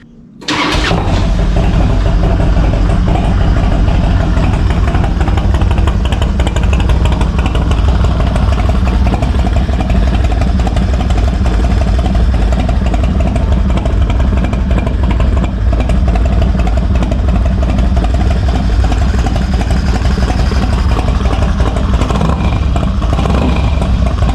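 A Harley-Davidson Dyna FXDX motorcycle engine sputters to life and then idles steadily and loudly, a constant low rumble that runs to the end.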